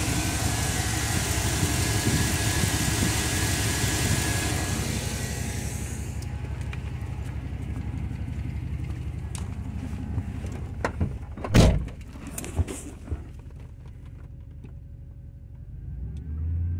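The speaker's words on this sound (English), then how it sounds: "I've heard no major change in this motor other than settling into idle." A car engine with a suspected fuel leak runs rough and loud at first, then settles into a quieter, steady idle, with a single sharp clunk partway through and the hum fading low near the end.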